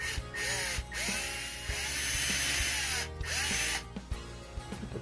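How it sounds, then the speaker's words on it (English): A power drill with a 3/16 bit drills into the rear hatch of a Toyota 4Runner, whining loudly in long sustained runs broken by brief pauses, with clicks and handling knocks between bursts. "And then 316 drill bit after."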